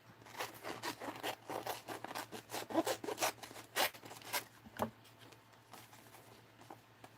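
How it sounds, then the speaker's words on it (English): Scissors cut through a sheet of wallpaper for a mixed-media art journal, a close series of crisp snipping and rasping strokes in uneven bursts over a faint steady hum, then a few softer trailing cuts. "This is wallpaper. Let's cut this out."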